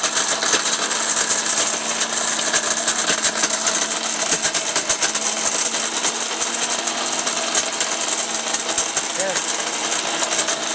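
A loud, continuous, gritty roar comes from a Miyako 1400-watt household blender pulverizing dried turmeric, with the motor churning steadily and close by throughout.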